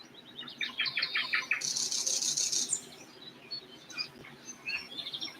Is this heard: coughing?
no